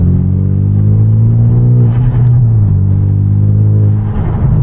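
A manual Hyundai Genesis Coupe cruises at night on empty downtown streets, its engine and exhaust droning in a loud, steady low rumble from inside the cabin, with the pitch dipping slightly midway as the throttle shifts and then settling.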